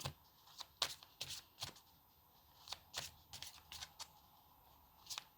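Tarot cards shuffled by hand for a reading, a series of soft, quick riffling and slapping bursts at an irregular rhythm, close and fairly quiet, with no talking.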